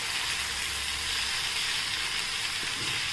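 Garlic and green chilies sauté in a pan for a garlicky fenugreek vegetable dish, a steady bright sizzle running without a break, with a faint scrape of stirring near the end.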